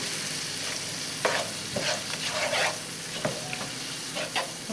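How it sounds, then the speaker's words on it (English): Vegetables cooking in curry in a pan, with a steady bubbling sizzle and occasional stirring scrapes and clinks, close and moderately loud. "we're gonna let the vegetables cook in the curry"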